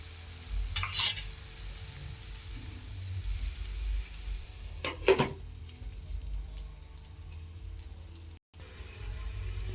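Onions softening in a covered pan for a garlicky eggplant bharta, giving a low steady sizzle with a couple of brief stirring or lid clatters near the start and midway.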